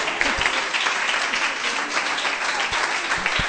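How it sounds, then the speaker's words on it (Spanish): An audience applauds at an event for young people, a steady, dense wash of clapping that stays loud and even throughout, with no talking over it. "Un aplauso, ¿no?"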